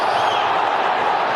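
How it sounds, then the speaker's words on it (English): A football crowd at an FA Cup quarter-final between Manchester United and Fulham sends up a sustained, loud roar of appeal for a penalty, a dense wall of stadium noise. "Half-hearted appeals for a penalty, mainly from the crowd"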